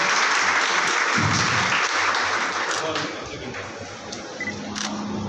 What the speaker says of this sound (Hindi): ये पूरा का पूरा भवन और सभागार जोरदार तालियों से गूंज जाए